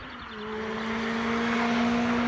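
A motorcycle engine hum swells in volume over a couple of seconds as it approaches, with a steady droning pitch.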